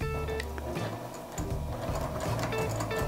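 A sewing machine back stitches through fabric on a zip tote, its motor whirring in short, rhythmic bursts that stop and restart, close and steady.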